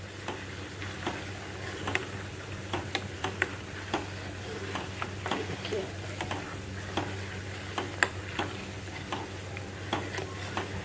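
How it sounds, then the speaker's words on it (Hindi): Homemade ghee made from cream simmers in a pan with a soft, constant bubbling sizzle. Rapid small pops and ticks rise from it, close and fairly quiet, with no talking. "बढ़िया से घी जो है पक रहा है।"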